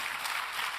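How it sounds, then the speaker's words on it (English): An audience applauds a panel at a cancer conference, with dense, even clapping throughout a short, steady burst and no voices. "Let's give our panel a round of applause."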